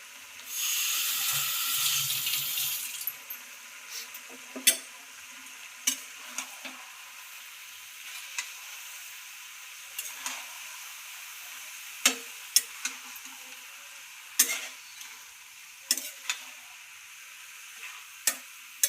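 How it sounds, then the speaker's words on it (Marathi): Boiled greens of coriander, spinach and mint hit a hot pan with a loud sizzling burst, then quieter frying continues under repeated sharp scraping clacks of a spoon stirring against the pan. "आता आपण याच्यात भाजी टाकून घेऊ"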